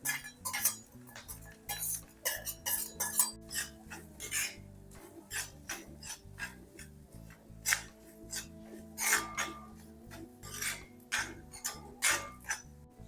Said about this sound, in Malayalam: തേങ്ങ നല്ലതുപോലെ നമുക്കൊന്ന് വറുത്തെടുക്കണം